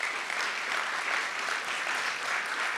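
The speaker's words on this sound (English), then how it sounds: "please a round of applause for Marc, Richard, Jim, Lillian, and Peter, our panel tonight on entrepreneurship" Steady, dense applause from an auditorium audience after an evening entrepreneurship panel, continuous clapping throughout with no break or voices.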